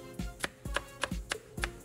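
Knife chopping apple on a cutting board while preparing Instant Pot beef and Guinness stew: close, crisp paired thuds in a steady rhythm, about four strokes, with no talking.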